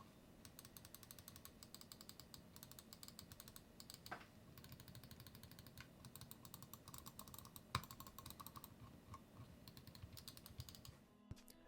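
Faint, steady stream of small clicks from the switches of a Glorious Model D Wireless gaming mouse, tapped rapidly and evenly at close range, with a couple of sharper clicks standing out, no voice.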